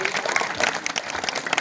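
An audience claps during a Balinese bondres comedy performance, a burst of brisk, uneven applause from a crowd with voices mixed in, lasting under two seconds.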